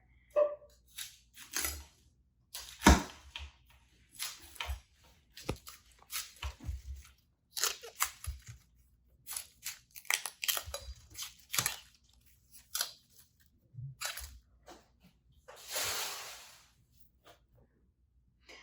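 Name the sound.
knife cutting cauliflower florets in a strainer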